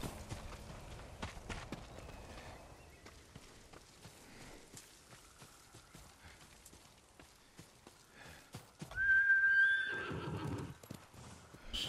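A horse whinnies loudly near the end, after a stretch of galloping hoof clip-clops and scattered game sound effects in Ghost of Tsushima; no talking.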